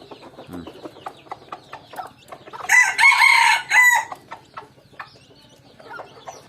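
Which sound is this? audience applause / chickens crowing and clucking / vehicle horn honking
chickens crowing and clucking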